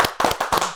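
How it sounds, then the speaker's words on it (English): Several sharp hand claps in quick succession for a guest on a radio talk show, close and loud with an uneven rhythm. "let's give a hand clap for Cedrinna"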